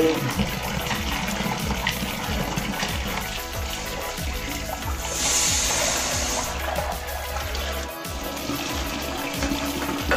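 Small bootai fish being washed in water for a fish curry, with continuous splashing and running water close by and rhythmic sloshing as the fish are rinsed.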